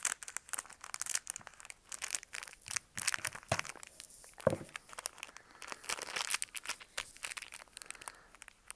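Gift package being cut open and unwrapped, with steady crinkling and tearing of wrapping paper, close and fairly soft, continuing in busy irregular bursts throughout.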